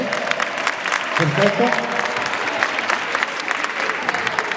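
An audience at an 1980s-themed open-air concert in Rosta claps and cheers, a thick wash of applause swelling briefly in the middle while a nearby voice speaks over it.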